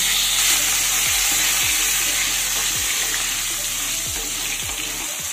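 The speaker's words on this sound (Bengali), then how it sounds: "এবার ভালো করে নেড়ে চেড়ে আলুগুলোকেও একটু ভেজে নিতে হবে।" Potato pieces frying in hot oil with panch phoron spices, a steady loud sizzle throughout, broken by several soft clunks as the pieces are stirred about the pan; no voices.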